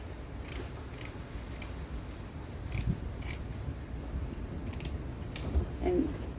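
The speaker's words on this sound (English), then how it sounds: "These are dollar store scissors." Cheap dollar-store scissors snipping repeatedly while trimming material for a rain catchment setup, a series of sharp close cuts over a low background hum.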